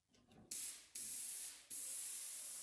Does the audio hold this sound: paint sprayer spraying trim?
yes